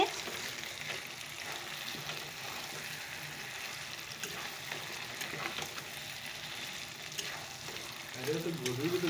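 Mutton braising and frying in a pan, a soft continuous sizzle with faint stirring, and a brief louder clatter near the end.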